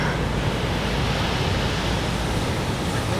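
Ocean waves wash onto a beach at San Juan, La Union as a loud, dense, continuous roar of surf, close and unbroken, with no voices.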